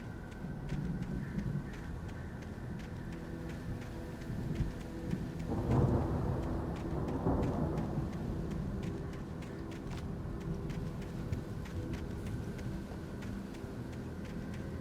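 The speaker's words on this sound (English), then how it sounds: "The storm raged on" A thunderstorm in the video game Alan Wake Remastered: steady rain hiss with low rumbling thunder that swells and peaks midway, then settles back into a continuous stormy wash.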